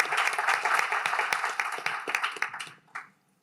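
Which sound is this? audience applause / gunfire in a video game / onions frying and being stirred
audience applause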